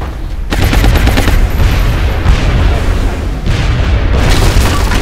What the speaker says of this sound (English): in a finale that even Michael Bay couldn't have scripted better, the explosion as everyone scrambles for cover